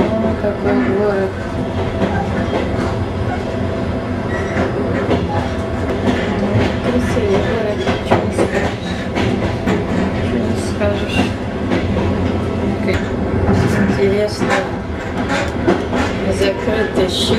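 A passenger train rolls past Kazan with a steady, loud rumble of wheels and carriage noise, rhythmic clicks over the rails throughout, and someone talking now and then over it.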